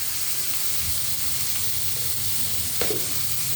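Capsicum and onion with turmeric and salt fry in a pan for a dal puri curry, making a steady close sizzle with occasional stirring scrapes and one brief clack near the end.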